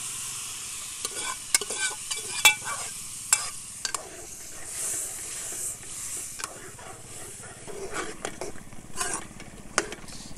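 Beef cooks in hot oil with black pepper and garam masala for a karahi, giving a steady soft sizzle and hiss. Sharp clinks and scrapes of a stirring utensil against the pan recur throughout, close and fairly quiet.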